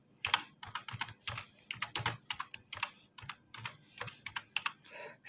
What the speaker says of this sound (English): Go to a Chrome browser, then type localhost / our project name final project.